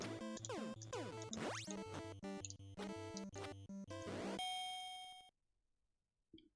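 Chiptune boxing bell from the NES game Punch-Out, a bright repeated electronic ding over busy game music, ending as the music cuts to near silence.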